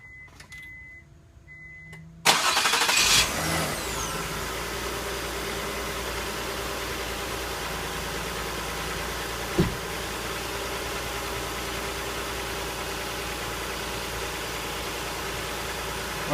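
A 2002 Mazda 626 with an EGR fault and check engine light cranks briefly after a soft electric whine, catches and settles into a steady, even idle heard close up, with one small knock partway through.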